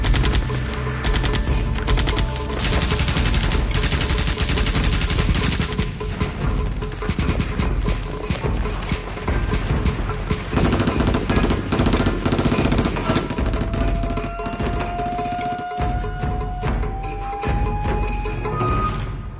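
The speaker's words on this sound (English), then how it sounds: "they come under heavy machine gun fire from well-entrenched Chinese positions" Heavy machine gun fire in a Korean War battle scene at Hill 467, loud sustained rapid bursts with crashes and clatter, later joined by a rising whine.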